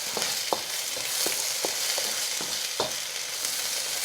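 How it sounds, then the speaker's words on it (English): Chopped celery and other vegetables for a chicken stir-fry sizzling steadily in a hot pan, with a spatula scraping and tossing them in repeated clicks every half second or so, close and alone. "And we're going to stir those around 30, 45 seconds, something like that"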